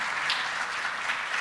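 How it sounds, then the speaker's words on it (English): Audience applause at a Georgia Partnership critical issues forum, honoring education policy fellows who stand; steady, fairly faint broadband clapping from a crowd throughout, with no talk on top. "Let's give them a round of applause."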